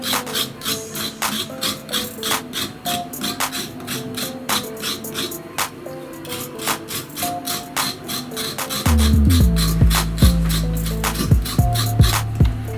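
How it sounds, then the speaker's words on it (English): Peeled cassava root is scraped with rapid rhythmic rasping strokes, close and fairly loud, with a few soft knocks. The strokes grow heavier and deeper toward the end. "Now I've finished scraping the cassava"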